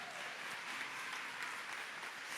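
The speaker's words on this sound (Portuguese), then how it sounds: "Essas palmas foram ridículas." A church congregation claps at a service, a soft, distant, even patter of many hands that continues steadily throughout.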